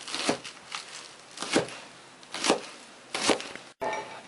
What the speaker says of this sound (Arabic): هنقطع بقى البصل الاخضر، نقطعه كده شرايح رفيعه.